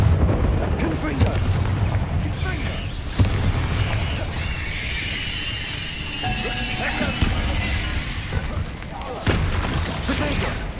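Fiery spell blasts and booming explosions in the Hogwarts Legacy video game during a dense duel, with rumbling low impacts, crackling bursts and a shimmering magical swell midway, continuous and loud, partly under speech.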